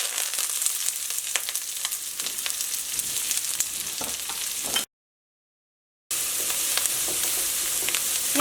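Sliced onions and curry leaves sizzle in hot oil with mustard seeds for a Kerala cherupayar thoran, a dense, steady crackling fry broken by a brief gap of silence before the sizzle resumes.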